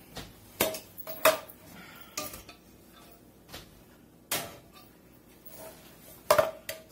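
An extra large metal skillet being handled, a series of separate clanks and knocks spaced irregularly, fairly close and moderate in level, with quiet gaps between.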